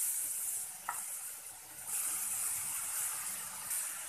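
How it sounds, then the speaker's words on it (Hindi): Onion and bottle gourd sizzle steadily in a hot pan, a continuous hiss with soft scraping from stirring and one brief clink, close and moderately loud with no talk. "और अब हम इसे अच्छे से फ्राई कर लेंगे।"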